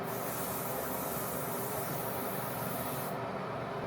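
A makeup setting spray hisses in one continuous, close, steady burst for about three seconds before cutting off abruptly, with no talking.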